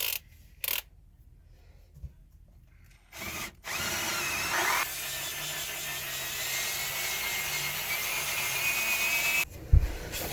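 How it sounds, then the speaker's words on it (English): A power drill whirs steadily for several seconds after a few short bursts, drilling a hole to run network wires, then stops with a clunk. "my drill bit wasn't long enough"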